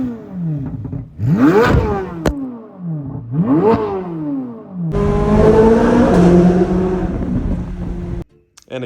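Corvette C8 Z06 with its 5.5 liter flat plane crank V8 revving hard, two rising blips followed by a longer loud high-pitched pull through the gears, then a sudden cutoff.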